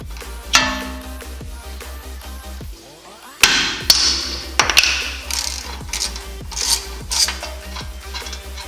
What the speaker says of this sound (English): I'm just going to tap on the side of the control arm, like where the ball joint goes through,